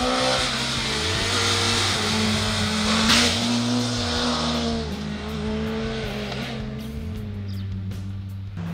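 A motorcycle on Continental ContiSportAttack 4 tyres rides a road, its engine droning loud and close with rising revs and several gear changes, then easing off under wind noise.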